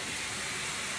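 Tomato masala for beef curry sizzles as it is sautéed in a pan, a dense, even hiss that is loud and close and continues without a break.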